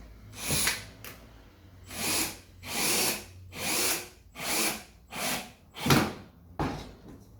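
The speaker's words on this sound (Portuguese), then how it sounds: "depois eu vou fixar o parafuso na parte superior" A power drill drives a screw into a marine plywood shelf in about seven whirring bursts with brief pauses between them, loud and close.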